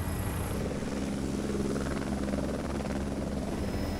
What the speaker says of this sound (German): Der Helikopter schiebt sich langsam über das Windrad.